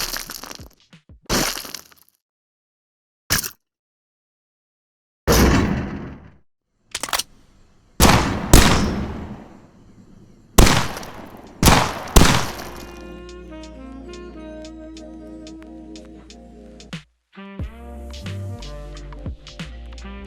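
Video game gunfire with bullets striking surfaces, heard as separate loud sharp shots and impact cracks between silent gaps, followed by a sustained low hum and a rapid burst of repeated shots.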